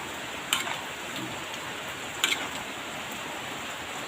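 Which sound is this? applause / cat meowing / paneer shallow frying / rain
rain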